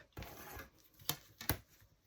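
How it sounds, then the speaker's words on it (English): A few crisp scissor snips nipping off paper tag corners, two sharp cuts close together with softer rustling of paper around them, quiet and close. "I can just nip off the corners"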